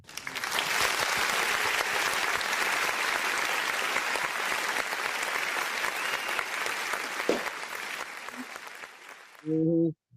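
Applause sound effect from a crowd, played after Ohio State is announced during a New Year's football show: about nine seconds of dense, steady clapping that stops abruptly, followed by a brief voice.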